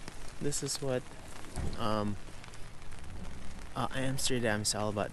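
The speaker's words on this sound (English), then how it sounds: "But how can I do that when it's raining like this?" Steady rain patters onto surfaces beside the canals in Amsterdam, a constant hiss running beneath someone talking close by.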